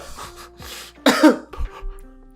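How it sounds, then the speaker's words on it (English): A person coughs during a podcast conversation, a short burst of a few harsh coughs with throat clearing, fairly close and loud, following a quieter murmur and trailing into faint sounds. "I just coughed my ass off"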